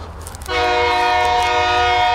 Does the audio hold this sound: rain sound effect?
no